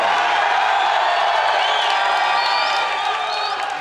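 A packed crowd of fans at a UFC 261 press conference cheers and roars steadily, with whistles and whoops cutting through a dense, continuous wall of noise.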